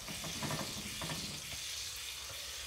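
Food frying in a 15-inch Magnolite pot gives a moderate sizzle with a few light stirring clatters early on, then settles into a quieter steady hiss.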